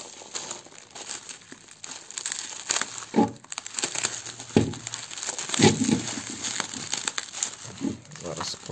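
A parcel package holding a folder is opened, its crinkly wrapping rustling and crackling in uneven bursts close by, with a few sharper tearing crunches.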